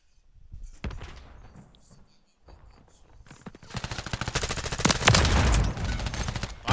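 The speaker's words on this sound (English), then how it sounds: "How are they surviving my gunshots" Rapid gunfire in Call of Duty: Modern Warfare III rattles in dense automatic bursts, sparse shots at first, then a loud sustained barrage building toward the end.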